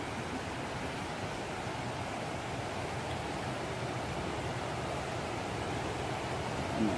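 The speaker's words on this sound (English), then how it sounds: "And it looks like we have a creek crossing immediately." A steady, even rush of creek water flowing at a trail crossing, broadband and unbroken throughout with no voices.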